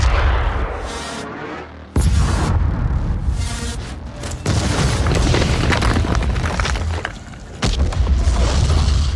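A heavy weapon blast in a DOOM Eternal cutscene, a sudden booming hit followed by a long rumbling, crackling roar with further sharp impacts, loud and dense throughout.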